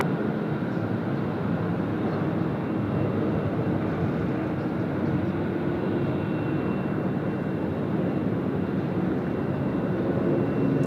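Jet aircraft engines rumble steadily at Sydney Airport, a continuous broad roar holding even and fairly loud throughout with no voices over it.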